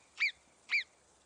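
An alpine marmot near Bonneval-sur-Arc in Savoie gives two short, sharp alarm whistles about half a second apart, clear and alone against a quiet background.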